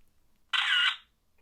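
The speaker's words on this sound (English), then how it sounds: "Listen to the shutter of the photo when you take it." A feature phone's camera shutter fires once as a photo is taken, a short synthetic electronic chirp lasting about half a second, close and clear against near silence.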